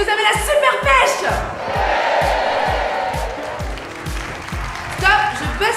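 A theatre audience applauds and cheers at length, with loud rhythmic stamping or clapping beats running underneath the crowd noise, then a brief fresh burst of applause near the end.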